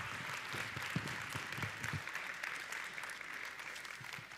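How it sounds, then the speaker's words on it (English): Applause from an audience at a talk, with dense clapping that fades quickly after about two seconds and leaves a quieter hall. "Can you just give an outrageous applause to Jordan Eiffert as she comes?"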